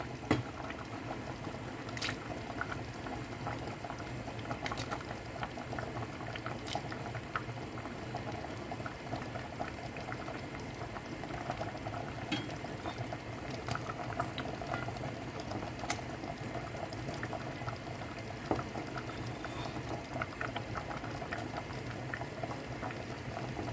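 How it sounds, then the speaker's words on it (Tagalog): Mung bean soup boils in a pot, giving a steady close bubbling and simmering texture with small pops throughout, with no talking. "Ayan, kumukulo na guys."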